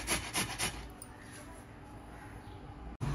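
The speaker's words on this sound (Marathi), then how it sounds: "बीट मी वाफवून घेतलेले आहेत, किसायला पटकन होतं। पटकन किसलं जातं।" Steamed beetroot rubbed against a grater for a paratha, giving rapid rhythmic rasping strokes up close that fade into a softer continuous scraping before a brief stop.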